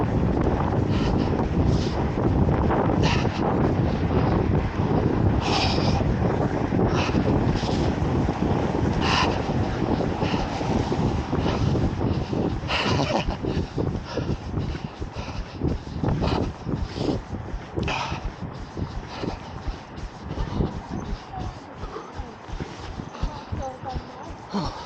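Heavy wind buffets a microphone outdoors on a cold, wet night run, a constant loud low rumble throughout with gusting bursts, while a voice talks under it.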